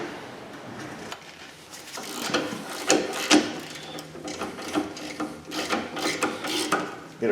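A socket wrench working loose the rear brake caliper bracket bolts on a Cadillac Escalade (Chevy Tahoe), giving a steady close grinding, rasping run of clicks and scraping metal that grows busier and louder as it goes, with no talk.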